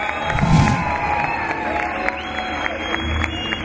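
Arena crowd at an ArmFC fight event cheering and applauding for a fighter, a dense steady roar with a brief louder swell near the start and scattered shouts throughout.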